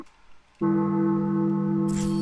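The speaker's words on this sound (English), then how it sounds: "I need to make bell stop ringing" A bell rings out with a sudden strike, then holds a loud, steady, sustained tone that keeps sounding without fading.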